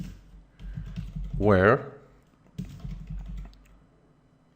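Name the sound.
typing on a computer keyboard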